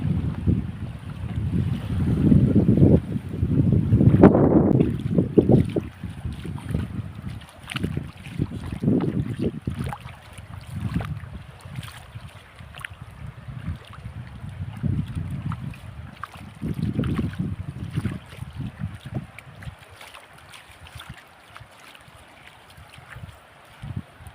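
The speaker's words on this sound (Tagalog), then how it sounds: "Bangka na malaki." A large boat's low rumble drifts over the sea, mixed with gusty wind buffeting the microphone and the wash of waves, rising and falling throughout.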